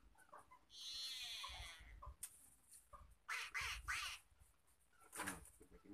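A duck quacking sound effect drops into a homestyle Thai grilled-chicken cooking session, with a run of loud, harsh squawking quacks in quick bursts and no talk over it.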